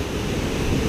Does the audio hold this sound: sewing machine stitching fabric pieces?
no